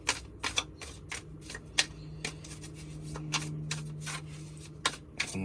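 Tarot cards being shuffled by hand give a run of quick, crisp riffling and slapping bursts, close and fairly quiet, with short pauses between them and no talking.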